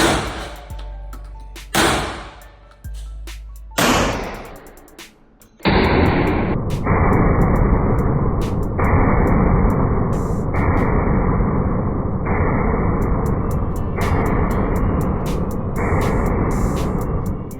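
An SDS Lynx gel blaster splat gun fitted with Kalashnikov wood furniture and a muzzle brake, firing several sharp single cracks and then a long continuous burst of rapid shots, close and loud, with no talking.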